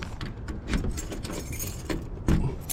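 A key jangles and clicks as it is handled and turned in a deadbolt lock on a bus door, with several sharp metallic taps and a firmer clunk near the end, close up and without talk.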